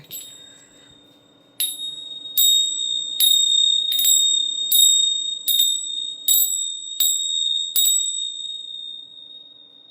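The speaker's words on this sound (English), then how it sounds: "I'm going to ring the bells." A set of hand bells is struck about nine times at a steady, unhurried pace, each clear ring sounding close by and loud and then hanging in a long shimmering decay. The final strike fades out on its own into quiet.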